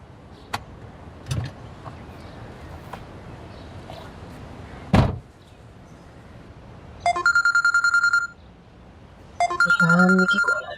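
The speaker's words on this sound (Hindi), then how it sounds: "अम्मी की कॉल आ रही है।" A mobile phone rings with an incoming call, two bursts of electronic ringtone cutting in clearly after scattered clicks and a thump, with faint background noise.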